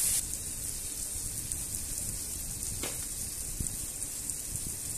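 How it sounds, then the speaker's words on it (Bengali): A paste of ground white and black mustard seeds fries in oil in a pan with taro stolons and prawns, giving a soft, steady sizzle with a few faint stirring knocks. "ভালোভাবে আমি কষিয়ে নিচ্ছি।"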